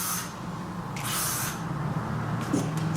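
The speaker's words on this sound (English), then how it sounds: "So go ahead and spray that through." Two bursts of hissing hairspray from an aerosol can, the first around a second apart from a shorter second one, close up, with a faint softer hiss near the end.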